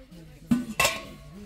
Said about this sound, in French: Couvercle en verre comme ça.